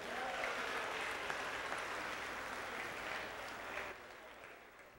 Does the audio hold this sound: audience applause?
yes